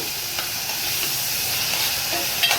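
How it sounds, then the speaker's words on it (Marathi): Tomato, ginger and garlic paste goes into hot oil for a vegetable pulao and sets off a constant hiss and sizzle, with faint stirring scrapes near the end. "आता आपण टाकूया बघा टॅमॅटो अदरक लसणाची पेस्ट"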